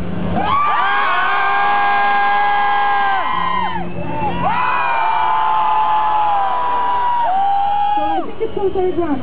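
Festival crowd at a live concert screaming and cheering loudly, a dense sustained roar of many voices with whoops and yells rising in waves, dipping briefly around the middle before surging again.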